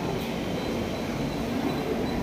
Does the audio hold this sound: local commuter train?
yes